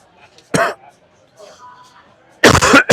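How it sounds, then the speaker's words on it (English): Two close, loud coughs from one person: a short harsh burst early on, then a longer double cough at the end, with only faint murmurs in the quiet between. "Sorry for the coughing."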